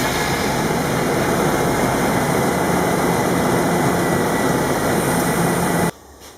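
A 2002 Safari van engine runs steadily at idle, a loud, constant broadband drone with no speech, cutting off abruptly near the end.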